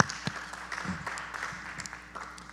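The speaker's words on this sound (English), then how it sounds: "round of applause for all the panelists in both panels" Scattered applause for the panelists at a virtual town hall meeting, faint and thin, with a few distinct claps standing out over a soft steady patter.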